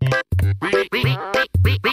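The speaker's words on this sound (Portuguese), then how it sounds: "Nosso amigo pato parece estar se divertindo." A cartoon duck from Pocoyo quacks repeatedly in quick, bright bursts, about five or six loud quacks with short gaps between them, standing alone without other sound.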